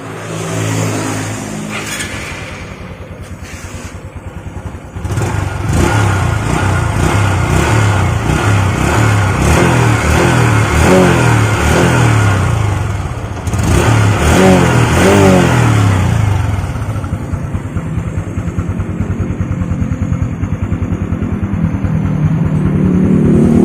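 A stock Honda Wave 125i motorcycle's original exhaust idles and then revs up repeatedly, the engine note rising and falling in several close, loud blips before settling back to a steady run.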